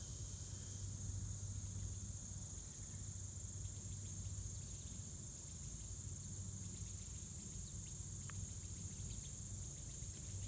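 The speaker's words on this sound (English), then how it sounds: "the sweet summer song of the cicada" Southern cicadas (Magicicada) in summer, a steady high-pitched drone that holds unbroken throughout, fairly faint and distant, over a low background hum.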